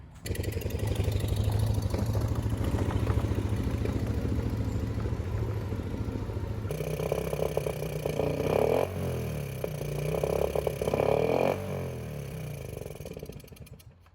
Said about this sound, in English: I don't know what's going on with this four-wheeler